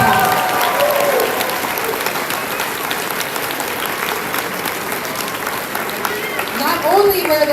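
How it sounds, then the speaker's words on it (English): An audience at an elementary school kindergarten music program claps steadily in sustained applause, with some voices audible over it. "Give them another round of applause."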